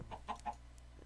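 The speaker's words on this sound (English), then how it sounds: "Little baby chicken!" Three short, soft clucks from a baby chicken in Minecraft, spaced closely together over a steady background hum, with no voices.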